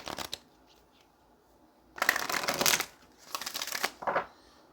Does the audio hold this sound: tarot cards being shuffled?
yes